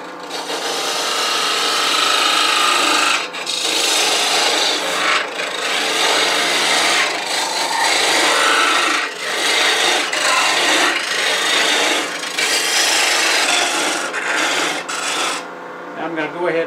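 A parting tool cuts into a spinning wooden clamshell box on a lathe, producing a continuous harsh rasping scrape, loud and close, broken by a few brief pauses as the tool lifts and bites again.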